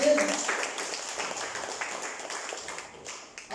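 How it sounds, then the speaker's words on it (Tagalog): A church congregation claps for a few seconds, a steady patter of applause at moderate distance. "Palakpak tayo sa Lord"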